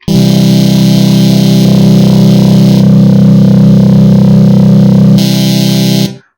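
A sustained, loud synthesized tone from Ableton's Operator synth with its erosion effect, buzzing and distorted with dense harmonics, its brightness shifting in a few steps before it stops abruptly after about six seconds.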